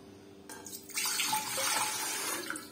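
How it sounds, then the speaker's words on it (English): Water poured from a tap into a large pressure cooker while preparing meat for a Palestinian okra and basil dish; a steady rushing splash starts after a short pause and continues close up, with no talking. "I add water."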